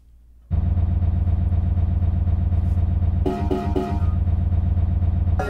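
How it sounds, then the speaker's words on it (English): A tractor mowing a housing estate outside starts up about half a second in and then runs as a steady, loud, droning engine hum, with a brief rattly burst of higher-pitched clatter partway through before the even engine tone returns. "Here's the tractor outside, it's just mowing the estate."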